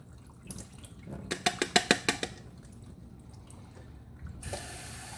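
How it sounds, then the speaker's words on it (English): Tap water runs into a cup holding tomato seeds, with a burst of sharp splashing peaks and then a steady hissing flow that stops and restarts. "First I'm going to fill this up with water just to kind of dilute everything down a little bit."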